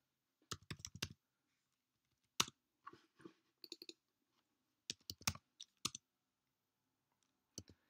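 Close, quiet typing on a computer keyboard comes in irregular clusters of crisp key clicks separated by short pauses, with no one speaking.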